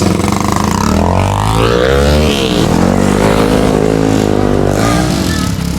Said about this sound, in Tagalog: Nagkakaingay ng motor.